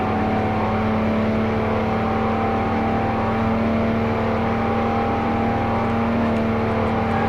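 A Lamborghini tuned past 1000 horsepower accelerates in fourth gear with a steady, loud, droning engine note that holds without a break. No one speaks.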